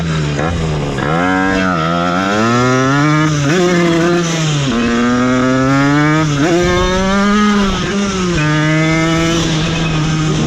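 A Derbi 50cc two-stroke moped engine, running far too rich, runs loud and close, its buzzing pitch rising and falling as the throttle is blipped repeatedly.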